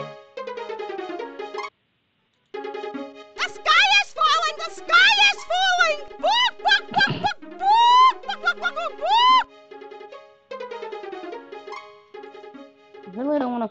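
Cartoonish bird calls from the adventure game King's Quest VII, a series of quick rising and falling warbling chirps in bursts, with a shouting voice and other talk around them.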